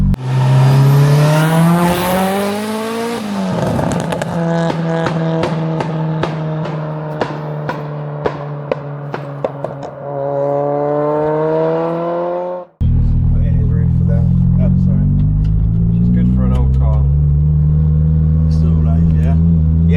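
Interior of a 630 bhp Mitsubishi Evo 9 with a five-speed gearbox: the engine roars loudly close up as it climbs through the revs, drops sharply at a gear change, then pulls hard again, with voices talking under the noise.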